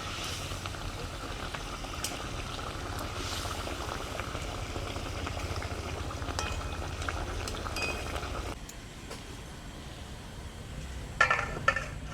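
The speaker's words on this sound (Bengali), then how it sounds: "ঝোলটা ফুটে গেছে এবারে এর মধ্যে দিয়ে দেবো ভাজা মাছগুলো" A spicy pomfret fish curry gravy bubbles at a steady low boil in a pan, a continuous soft simmering that eases slightly near the end, followed by a brief clink.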